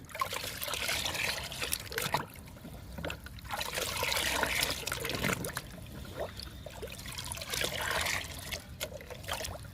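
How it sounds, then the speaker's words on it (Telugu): Water trickles and sloshes steadily as a liquid plant feed is diluted and stirred into water, with a few brief clinks in between and no voices. "బాగా కలవాలండి లిక్విడ్ వాటర్"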